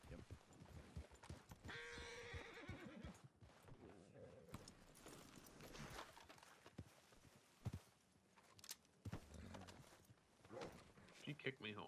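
Horse hooves clopping on the ground around a secluded cabin, irregular thuds mixed with rustling and an occasional whinny, fairly faint, with people talking intermittently throughout.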